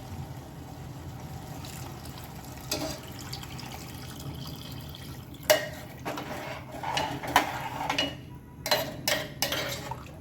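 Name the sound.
water being poured into lentils in pressure cooker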